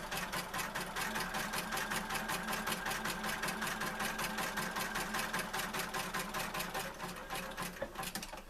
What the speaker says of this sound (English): We're going to stitch, we're going to have to allow a little bit more width in the zigzag.